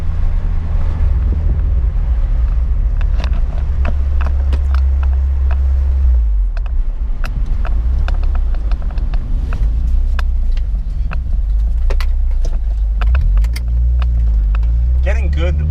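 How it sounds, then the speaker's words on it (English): Turbocharged Honda Prelude H22 engine runs with a steady, loud low rumble, faint voices underneath and brief fluttering chirps as the boost falls away. "you can definitely hear the flutter on the way down the turbo"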